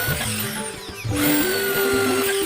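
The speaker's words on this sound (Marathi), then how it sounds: "ड्रिल मशीनच्या सहाय्याने पाटाला होल करून घेतले" A drill machine boring holes into a wooden board, a loud whirring motor tone that dips briefly and then rises in pitch as it bites.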